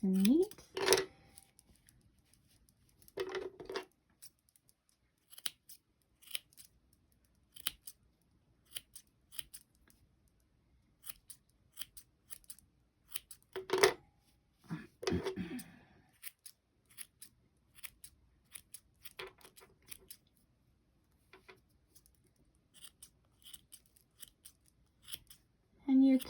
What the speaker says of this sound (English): now we're going to trim our pom-pom